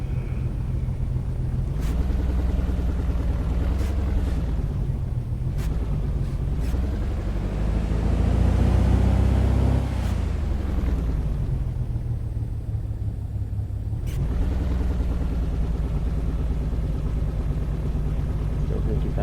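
A piston aircraft engine in an A2A Simulations flight sim runs steadily after a cold start at -24F, a low droning rumble that swells as the revs rise midway, then settles back, while someone talks over it.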